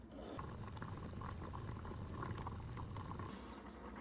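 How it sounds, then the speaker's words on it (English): Salsa-based shakshuka sauce simmering in a pan, a steady soft bubbling and gentle sizzle throughout, fairly quiet and close, with no talk. "let that simmer just a few minutes, thicken it up and get those a little softer"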